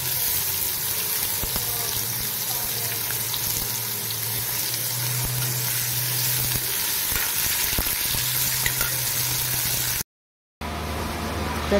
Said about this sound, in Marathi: त्याच्यामध्ये आपण टाकला होता बटाटा, तो पण तेलामध्ये चांगला भाजून घ्यायचा आहे